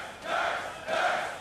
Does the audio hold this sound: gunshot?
no